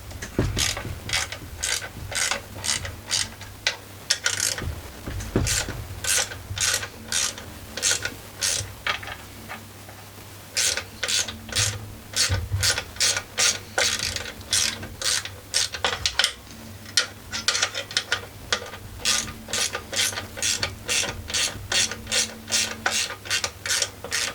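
A ratchet backs out four screws from a slightly bent front plate on a Greppa GC950DC generator: steady, close, rhythmic clicking runs in long repeated bursts with short pauses between screws.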